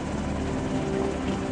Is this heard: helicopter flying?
yes